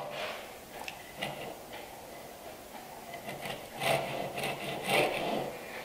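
A hand saw, crosscut then rip, works through wood for a mitered bridle joint, giving soft irregular rasping strokes that grow louder toward the end, close and alone.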